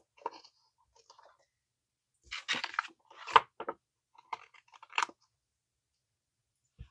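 Scissors cutting away excess sticker sheet paper: short crisp snips and paper crinkles come in scattered clusters, close and quiet against silence.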